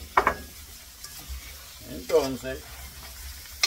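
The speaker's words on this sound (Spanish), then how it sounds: "y meneamos para que estos ingredientes se vayan mezclando todo el tiempo" Ingredients for chambre stirred and frying in a pan, with a soft sizzle running underneath and scraping, clinking stir strokes; a voice speaks briefly at the start and middle.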